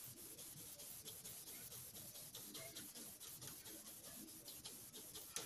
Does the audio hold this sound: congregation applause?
no